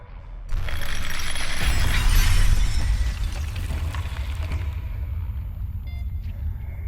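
Glass shatters in the isometric horror game Stasis: a sudden loud burst of breaking debris that swells for about two seconds, then thins into a long, rumbling tail over low ambient drone.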